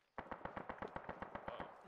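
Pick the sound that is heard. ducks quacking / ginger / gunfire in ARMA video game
gunfire in ARMA video game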